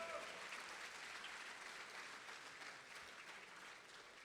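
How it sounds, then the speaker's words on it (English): Audience applause at an awards ceremony, steady, dense clapping from a crowd filling the whole stretch at an even level, faint overall. "let's give old Torpedo a warm round of applause for being able to accept in person"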